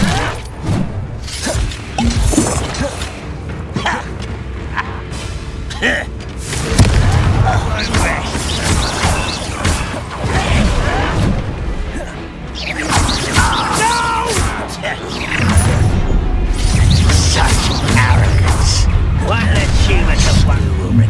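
Spell casting and blasting curse explosions in Hogwarts Legacy combat, a dense stream of booms, shattering crashes, thuds and whooshing bursts, loud and close, with voices calling out over the action.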